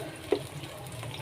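A little water is poured into a pan of masala and tomatoes, giving a brief, soft splash and sizzle over a faint background hiss.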